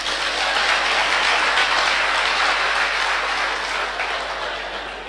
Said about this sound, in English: do you know why you are clapping?